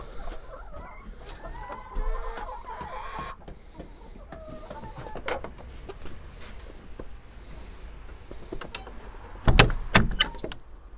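Scattered clucks and short calls from chickens nearby, with occasional clattering and a sharp knock near the end.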